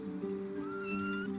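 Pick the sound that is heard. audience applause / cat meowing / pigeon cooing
cat meowing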